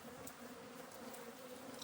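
An aggressive honeybee hive opened on a farm in Snowdonia hums with a dense, steady buzz of many bees at close range, low in volume and continuous throughout.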